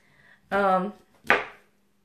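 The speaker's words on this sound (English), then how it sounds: "I basically just cut it right off at the flower ends." A knife cuts broccoli florets off the stem at the flower ends, two short crunchy slicing strokes close up, with a brief voice-like tone before the first cut.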